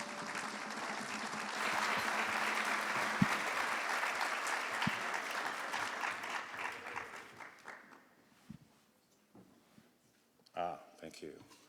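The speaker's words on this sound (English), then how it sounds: "Can you give him a round of applause, please?" A conference audience applauds steadily for several seconds before the clapping thins out and fades, with a few scattered claps and a brief voice at the end.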